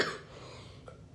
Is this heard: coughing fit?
yes